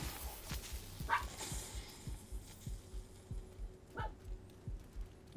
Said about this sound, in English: And my dog's going crazy on top of it.